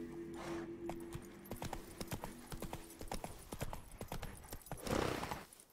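Roach the horse's hooves clip-clop in steady irregular steps in The Witcher 3, with a brief whinny-like sound and faint game ambience around them.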